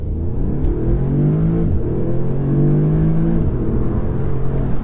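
A 2019 Audi S3 saloon accelerates hard from inside the cabin, its engine note climbing steadily and loudly, with a brief dip at each of two quick gear changes before pulling on again.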